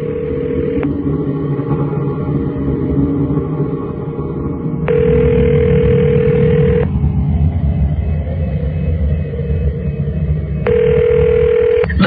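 A telephone rings out repeatedly as a call is placed to a hotel room, with long steady tones separated by gaps over a constant low rumble.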